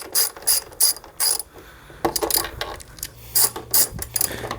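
A hand ratchet backing out two 5mm Allen head bolts from the outer plastic on a 2017-2020 Honda Grom motorcycle, giving loud, close, rapid clicking bursts in repeated strokes.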